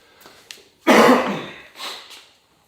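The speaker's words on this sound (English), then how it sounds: "sorry for the coughing" A man in a garage gym coughs once loudly at close range, a harsh burst followed by a shorter, softer cough and some faint throat noise.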